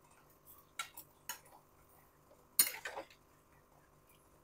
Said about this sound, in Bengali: লবণটা দিয়ে আবার একটু ভালো করে নেড়ে দেব।